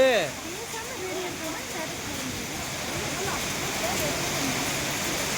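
Heavy rain pours down in a steady, dense wash that fills the whole clip, while someone talks excitedly over it at the start.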